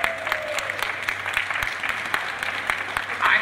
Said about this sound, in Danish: så skal du høre, hvordan publikum de klapper